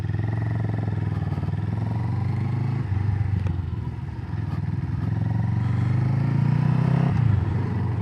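CFMoto 700CLX motorcycle ridden in sport mode, its engine droning steadily and loud throughout with rising pitch on acceleration, a brief dip near the middle as it shifts, and wind rush over the top; no talking.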